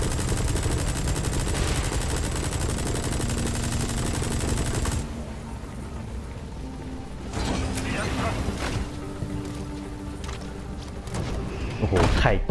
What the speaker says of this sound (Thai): ยิงปืนเล่นหน่อย